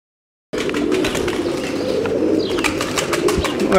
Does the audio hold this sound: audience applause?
no